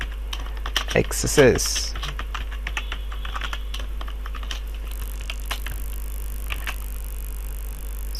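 Typing a script into a notepad on a computer keyboard, with rapid close key clicks in bursts against a steady low hum, as someone briefly speaks near the start.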